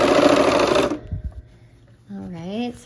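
A sewing machine stitches quilt pieces at a quarter-inch seam in a fast, dense mechanical whir for about a second, then stops with a few soft handling clicks before a person starts talking.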